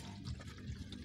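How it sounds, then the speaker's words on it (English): Water is poured into a kitchen vessel while breakfast tea is being made, giving a short, soft splashing trickle heard alone and fairly faint. "let me pour some water over here"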